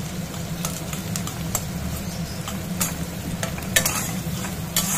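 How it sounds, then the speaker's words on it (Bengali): Onions fry in a pan with a steady, close sizzle and bubbling, marked by scattered light ticks and scrapes from stirring. "দেখো পেঁয়াজগুলো ভাজা করতে দিয়ে দিলাম।"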